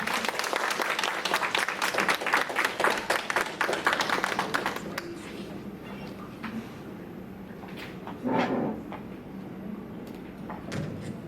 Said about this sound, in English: I still didn't like that clap neither